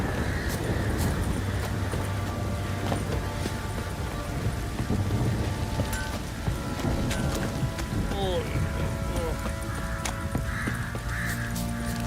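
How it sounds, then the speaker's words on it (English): Heavy, steady rain pours down throughout the downpour in The Witcher 3, with a low rumble, a few chirping calls and voices speaking over it. "This downpour's a bastard"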